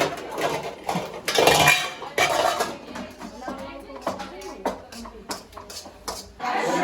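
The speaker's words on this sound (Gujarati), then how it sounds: "વાસણ ધોવાય છે લૂછાય છે" Dishes are washed and wiped during a home religious gathering: metal pots and utensils clink and clatter in irregular bursts, loud up close, while people talk nearby.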